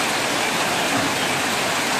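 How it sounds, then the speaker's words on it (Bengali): Relief rain after hot weather pours steadily as a dense, even hiss, close and unbroken, with no voices. "গরমের পর স্বস্তির বৃষ্টি"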